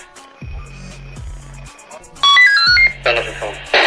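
Police radio traffic with electronic beeps and chirps: two low buzzing squelch bursts, then a run of rising tonal beeps with static, another squelch burst and a dense chirping tail, all close and fairly loud.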